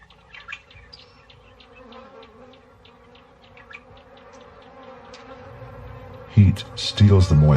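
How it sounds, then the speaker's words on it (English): African bees buzzing on a hot dry day in lion territory, a low steady drone with scattered insect flits, swelling louder and closer toward the end. "African bees, like everything else, are desperate for sustenance."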